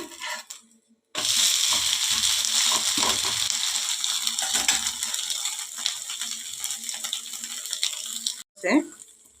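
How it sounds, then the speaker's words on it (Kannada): A salt-and-pepper dosa roasts in ghee on a pan, giving a steady, close sizzle and crackle for about seven seconds. The sizzle starts abruptly, stops abruptly, and is followed by a brief scrape. "ನಾನು ಸಿಲ್ಲುಯಿ ಸ್ವಲ್ಪ ತುಪ್ಪವನ್ನು ಹಾಕಿಕೊಳ್ತಾ ಇದ್ದೇನೆ ಅದು ಸ್ವಲ್ಪ ರೋಸ್ಟ್ ಆದರೆ ರುಚಿ ಜಾಸ್ತಿ"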